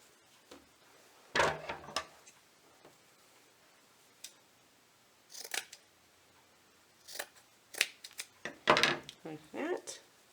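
Scissors snip through ribbon while a bow is made for a fall pumpkin centerpiece, several short crisp cuts and clicks scattered among quiet handling rustles, close up.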